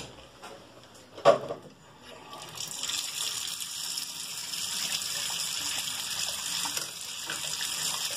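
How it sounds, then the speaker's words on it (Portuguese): Water runs and gushes down a bathroom sink drain just after its trap was cleaned and refitted, starting with a brief clunk, then a steady broadband rush lasting several seconds, close and fairly loud, with no talking. "vamos ver o fluxo da água agora"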